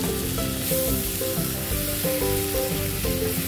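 Tomatoes and spinach frying in a pan, a continuous close sizzle with soft scraping from stirring throughout.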